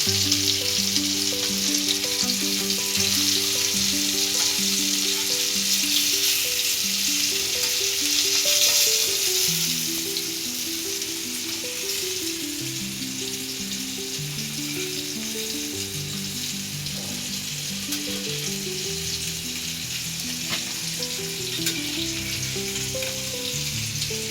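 Surmai fish slices frying in a pan of hot oil, a steady dense sizzle with crackling throughout, slightly louder in the first ten seconds, and a faint low tonal hum running beneath.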